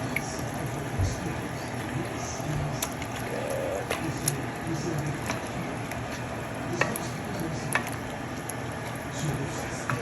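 Collard greens with ham and shrimp stirred in a cooking pot, a soft bubbling and simmering bed broken by scattered light scrapes and clinks, fairly quiet and steady throughout.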